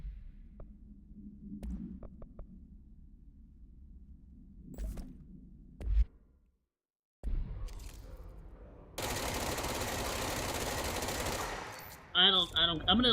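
Weapon fire in the video game Control with a boosted rate of fire: scattered shots over a low game hum, then a dense sustained burst of rapid fire lasting several seconds, followed by sharp bright effects near the end.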